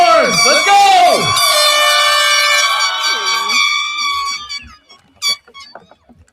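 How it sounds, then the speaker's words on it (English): Air horns blast loud and sustained at a graduation ceremony, layered tones blaring over a cheering crowd before fading into scattered short honks and noise. "Where are the air horns?"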